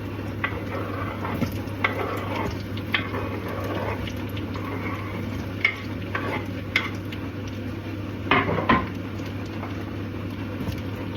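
Chopped ingredients slid into a pan of popped seeds and stirred for sausage surprise, sizzling steadily with repeated scraping and clattering strokes of the spoon against the pan, close and continuous.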